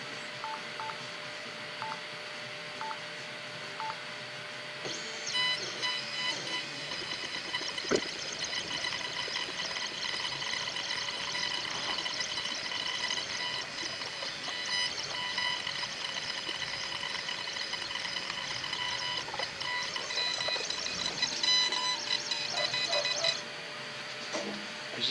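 A VEVOR 5W laser engraver runs steadily, its motors and fan producing a continuous high whine with faint tonal beeps, starting softly and then swelling into a sustained mechanical drone for about twenty seconds before easing off near the end.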